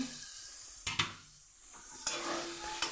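Flat beans fry and get stirred in a hot pan, giving a steady sizzle with a few sharp spatula scrapes and clatters near the start and again later, close and alone.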